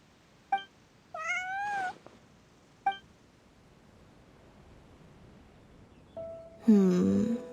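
A cat character in the video game Genshin Impact meows a few times in short, separate calls with clicks in between, ending in one louder, drawn-out meow over a soft background hiss.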